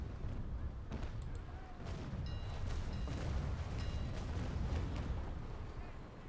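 Naval cannon fire in the age-of-sail game Naval Action during a shallow-water engagement, a continuous rumbling barrage of booms and bursts over a low roar, steady and moderately loud with no voices.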